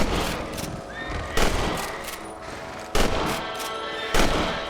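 Gunshots ring out while hunting rabbits in the video game Red Dead Redemption: four sharp, loud shots spaced over a few seconds, with a horse whinnying and shifting nearby between them.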